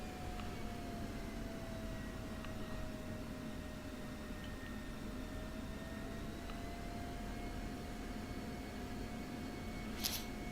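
An F-16C jet in the DCS flight simulator taxis toward runway 28 at Gaziantep, its steady engine whine and hum droning continuously with a faint rising tone, quiet and unbroken.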